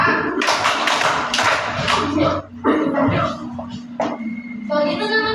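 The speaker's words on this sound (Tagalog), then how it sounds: "Bigyan natin si Risha ng 3 palakpak." A classroom of children clapping together for a classmate in a series of loud, sharp bursts in a quick rhythm, followed by scattered taps and children's voices chattering nearby.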